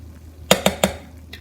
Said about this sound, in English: I'm going to stir it, and then I'm just going to let it cook for a little bit longer